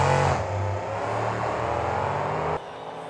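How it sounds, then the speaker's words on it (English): Monster trucks launch off the start line of a race, their engines roaring and revving loudly together for a few seconds before the sound drops off abruptly, with no voices. "Light goes green, trucks are away."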